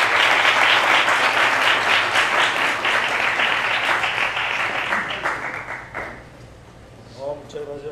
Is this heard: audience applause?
yes